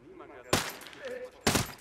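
Two sharp gunshots from the video game Ghost Recon Breakpoint crack about a second apart over a low murmur of background game sound.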